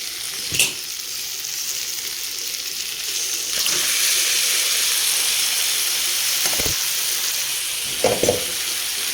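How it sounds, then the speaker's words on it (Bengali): Onions fry in a pan for biryani, a steady close crackling sizzle that grows slightly louder midway, broken by a few sharp clinks of a utensil against the pan, with no talking. "আর এখানে পেঁয়াজটা ভাজা হচ্ছে"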